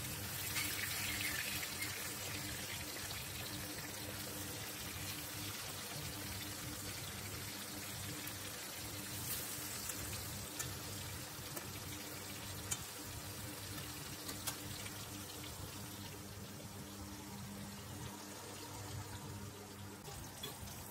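Hilsa fish frying in oil in a wok, a continuous bubbling sizzle with soft crackles and occasional scraping, steady and close for about twenty seconds.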